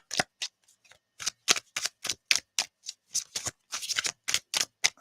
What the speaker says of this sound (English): So then, we'll go ahead and shuffle.